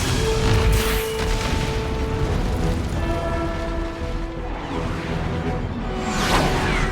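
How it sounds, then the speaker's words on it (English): The starship Infinity's main battery opens fire in Halo, a dense, loud roar of rumbling booms and sweeping whooshes that fills the whole stretch with no pause and no voices. "Main battery, fire!"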